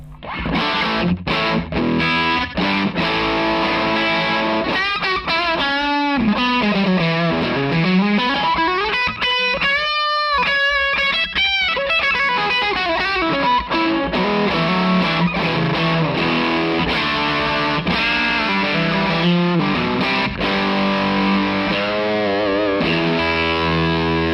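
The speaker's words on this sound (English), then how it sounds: "So that's the delay we've got." Heavily distorted electric guitar through an Empress Echosystem delay pedal, with repeating echoes and swooping pitch sweeps, played loud and continuous.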